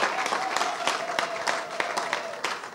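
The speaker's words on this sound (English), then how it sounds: "Come on, clap for him." Church congregation applauding during a sermon, a steady patter of many hands clapping at moderate distance, with scattered crowd murmur and a low steady tone underneath.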